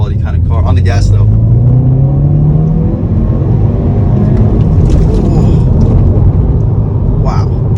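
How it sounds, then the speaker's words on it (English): Loud 2022 Hyundai Veloster N engine revving and accelerating, with a constant rumble of road noise and tire roar throughout. "you hear a reasonable amount of road noise too"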